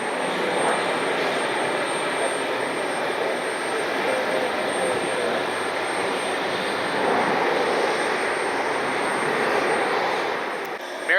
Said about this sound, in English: Got a private jet taking off just in front of it.